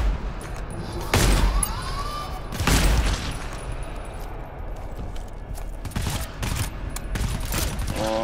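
Gunfire in the co-op shooter game GTFO, a few sharp loud bursts and scattered shots with mechanical clatter between them, heard close over a quiet game background.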